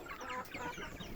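Soft, close chicken clucking, a few quick murmuring calls in a short burst.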